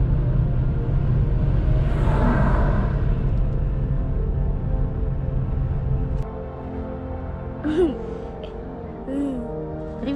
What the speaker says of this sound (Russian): у нас тут песчаная буря еще усиливается